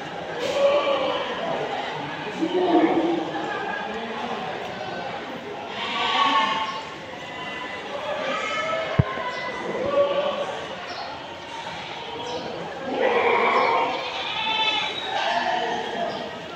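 Goats bleat repeatedly in a pen at the Deonar goat market, several calls rising over a busy crowd hum, with someone talking nearby.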